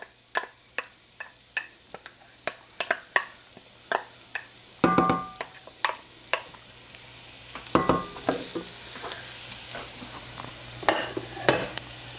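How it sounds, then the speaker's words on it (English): Finely chopped yellow onion sizzles in a pot, a soft steady fry with regular spoon scrapes and clicks as it is stirred, heard up close with no talking. "this is a finely chopped up yellow onion, and it's a little over half, about a half to 3/4. Put that in there."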